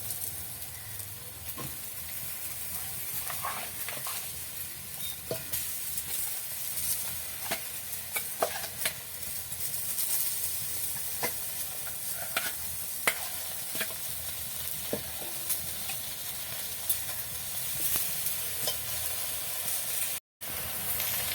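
Mango pickle with jaggery and water is stirred in a pan over a continuous hissing simmer, with irregular clicks and scrapes of the spoon against the pan throughout.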